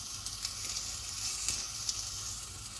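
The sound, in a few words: onions frying with carrots, garlic and butter in pot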